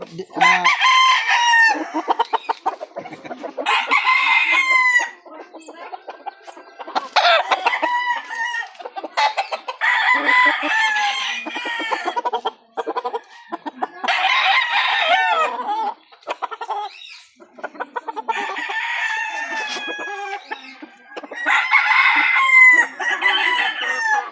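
A derby-size straight Golden Boy sweater gamefowl rooster crows repeatedly, loud and close, in a backyard, with clucking between the crows.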